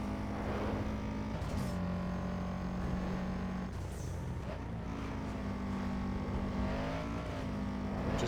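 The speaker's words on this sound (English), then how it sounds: "I do have some sound glitching going on where it sounds like I'm driving over cobblestones all the time" A car races through a lap in Need for Speed Underground 2 with a steady, droning engine note. A glitch adds a constant rattling, bumpy texture, as though the car is rolling over cobblestones.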